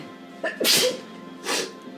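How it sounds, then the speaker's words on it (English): A single person sneezes sharply from hair heat protector spray, with a quick inhale before it and a second smaller burst after, close and loud against quiet. "the heat protector always makes me sneeze"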